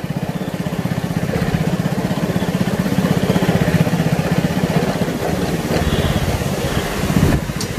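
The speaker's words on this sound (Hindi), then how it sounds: "मैं तो बाइक पर हूँ" A motorcycle engine runs steadily at close range with a continuous mid-pitched throb, rider on board near a waterfall, holding a fairly even level throughout with a slight rise near the end.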